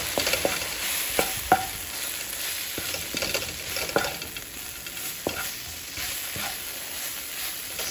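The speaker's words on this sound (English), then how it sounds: "that's just going to all go in there and give that a stir" Masala spice blend being stirred into a sizzling British Indian curry pan: steady frying hiss with scattered scrapes and knocks of the stirring utensil, close and moderately loud, with no talking.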